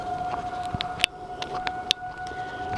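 A steady distant siren holds two sustained tones on a railroad layout, with scattered clicks and ticks over a low background hum.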